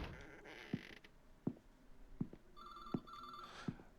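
A telephone ringing in the horror video game Scholar's Mate, a faint electronic trill in the latter half, over a series of regular creaking thumps like slow footsteps.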